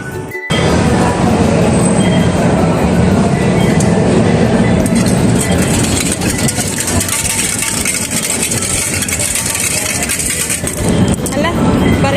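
A light rail train rumbles loudly and steadily close by on a commuter line, its wheels and motors roaring continuously for most of the stretch.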